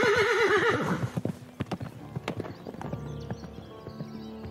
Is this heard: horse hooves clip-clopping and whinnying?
yes